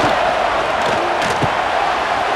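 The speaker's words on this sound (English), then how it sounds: "listen to this crowd noise. This stadium is vibrating." A roaring stadium crowd in NCAA College Football 26 at a Florida State versus Florida game, a loud, dense, continuous wash of cheering and shouting with a few thumps rising out of the din.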